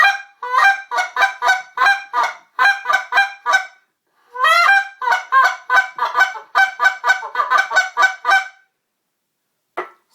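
A high-end goose call blown in rapid bursts of loud, raspy honks, with runs of clucks and pauses between sequences, close and alone.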